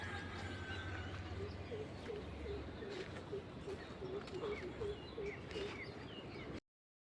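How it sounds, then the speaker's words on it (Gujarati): Birds calling on a misty morning, with soft repeated dove-like coos in a steady rhythm over a low background hum, fairly faint and distant before cutting off. "અને આ પક્ષીનો અવાજ જો આવે"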